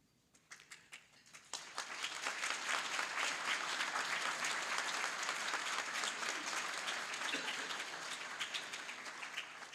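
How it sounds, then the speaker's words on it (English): An audience applauds at the 2023 Massachusetts Broadcasters Hall of Fame induction, a few scattered claps quickly swelling into sustained, dense clapping from a sizable crowd that holds steady and only slightly tapers. "you beat me to the applause"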